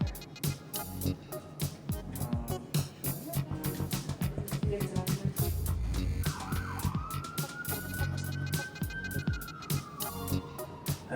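A wailing emergency siren rises and sweeps steadily over a busy background of music and rhythmic sound, moderately loud.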